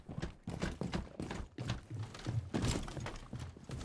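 Horse hooves clop in a video game, a steady run of hoofbeats repeating at a brisk rhythm, close and fairly clear, with no talk.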